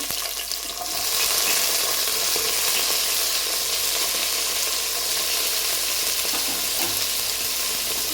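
Chopped ridge gourd frying in oil in a pan for sambar, a loud steady sizzle that swells after the first second and carries on evenly, close by.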